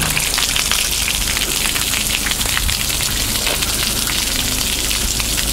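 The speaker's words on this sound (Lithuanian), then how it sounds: "Gerai, šitas tada išleisim vandenį." Water pours out of a large container being drained, a loud, continuous splashing hiss at close range that holds steady throughout without pause.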